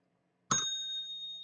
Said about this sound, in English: I'm going to give you the bell.